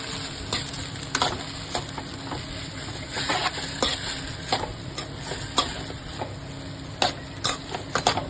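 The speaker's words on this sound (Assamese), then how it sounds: "চাউ ফ্ৰাই কৰি আছোঁ।" Chow noodles frying in hot refined oil in a home kitchen pan, a steady close sizzle broken by frequent sharp clicks and scrapes of stirring, with no talking.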